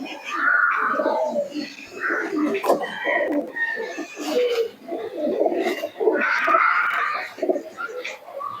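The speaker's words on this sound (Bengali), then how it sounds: "খুবই সুন্দর কবুতর দুটো।" Two fancy pigeons of the Madras, Malbai and Giribaj kinds, including a white female, coo close by. Their low, throaty cooing mixes with a person talking throughout.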